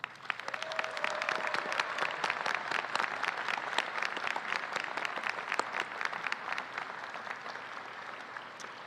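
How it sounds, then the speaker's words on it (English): At a law school commencement, graduates clap for their families in a full, crisp round of applause that builds quickly and stays strong before easing slightly toward the end. "please acknowledge and show your appreciation for the sacrifices of your loved ones by applauding them"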